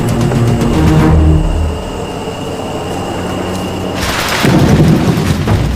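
Thunder rolls through a Panama jungle in the rainy season, a loud low rumble that swells, eases into a steady roar, then surges again near the end with no voices.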